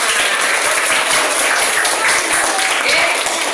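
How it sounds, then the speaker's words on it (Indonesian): A steady wash of applause from a group, many hands clapping at once without pause for a few seconds. "Tepuk tangan buat kita semua"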